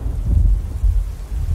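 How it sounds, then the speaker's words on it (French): Thunder from a storm in the video game The Very Organized Thief rolls as a deep, loud, continuous low rumble with gusty swells. "Attention, il va avoir l'orage."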